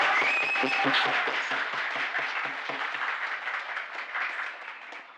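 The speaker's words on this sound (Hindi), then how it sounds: "तालियां रुकनी नहीं चाहिए उल्फत जी के लिए भाई." Audience applauding at a company foundation day celebration, sustained dense clapping from a crowd of people, steady and fairly close, tapering slightly toward the end.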